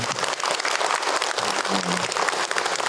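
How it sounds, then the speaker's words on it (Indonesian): An audience at an Islamic lecture breaks into steady, dense applause, loud and continuous for the whole stretch, with a faint voice briefly underneath. "Tepuk tangan buat yang bertanya"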